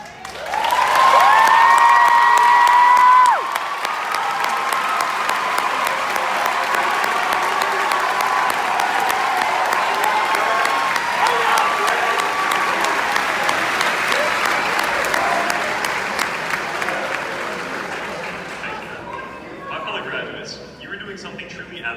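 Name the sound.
graduation audience applause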